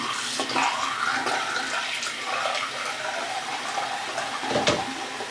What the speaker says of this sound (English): And then just wet that brush again.